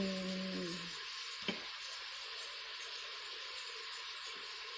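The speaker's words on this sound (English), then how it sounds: "The bacon is deglazing the pan for me." Local-butcher bacon sizzles steadily in a Pampered Chef Quick Cooker as the pan is deglazed, a soft, even hiss with one brief clink partway through.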